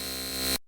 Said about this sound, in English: It's one of those buzzer things in my hand